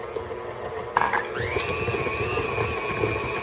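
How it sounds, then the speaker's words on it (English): A stand mixer with a paddle beats white chocolate macadamia nut cookie dough, a steady close motor whine that rises in pitch partway through as the speed goes up, with a brief clunk just before and no talk. "Beat it a little fast, turn it off, lift it up."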